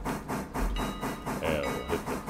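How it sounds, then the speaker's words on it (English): A steam tank locomotive in the Railroader video game lets off steam with a rhythmic chuffing hiss that pulses about every quarter second and is heard close up. "Oh, like lets off a lot of steam."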